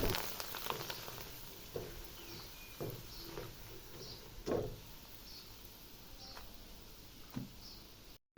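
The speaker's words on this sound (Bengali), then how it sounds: "আমি একটু বেশি পরিমাণ চিপস একবারে ভেজে নিচ্ছি।" A large batch of homemade potato chips frying in hot oil, giving a faint, steady sizzle with scattered soft ticks and pops throughout.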